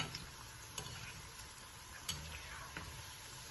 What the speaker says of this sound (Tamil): நல்லா பொன்னிறமா பொரிச்சு எடுக்கிறோம் பாருங்க